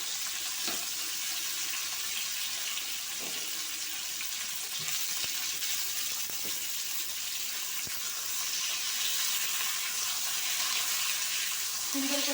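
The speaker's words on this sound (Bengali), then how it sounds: "তো দেখো পটলগুলো আমি লাল লাল করে ভেজে নেব।" Pointed gourd (potol) frying in hot oil makes a dense, even crackling sizzle that runs unbroken throughout, with a few soft utensil taps and a brief clink near the end.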